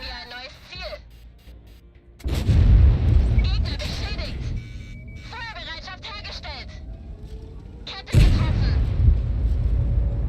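Tank cannon fire in the World of Tanks video game, with two heavy booming shots a few seconds apart, each followed by a rumbling tail and mixed with game effects and a player talking.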